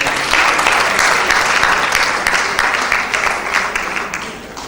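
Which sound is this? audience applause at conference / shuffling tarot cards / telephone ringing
audience applause at conference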